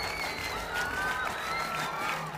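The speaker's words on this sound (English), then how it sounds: "We're now clapping in unison." A cricket crowd at a Nepal versus Scotland match claps and cheers in a broad, sustained wash of sound, with faint tonal noise like horns or chanting running over the noisy spread of applause.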